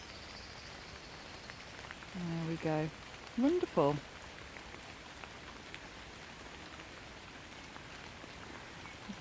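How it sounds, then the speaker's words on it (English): Steady rain falls through woodland with young beech trees in fresh leaf, a soft, even hiss of drops continuing throughout the clip. A voice briefly speaks a few words near the middle, over the constant patter. "Just listen to that rain."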